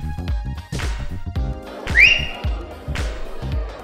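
A person whistles during a whistle challenge with TV stars, sending out sharp, rising whistles among choppy background sounds and faint voices nearby.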